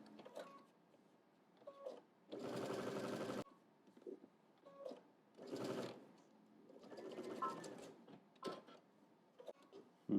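A home sewing machine runs a long basting stitch around the sides of a Know Me ME2118 pattern piece in short bursts, several loud whirring runs broken by pauses, clicks and handling of the fabric.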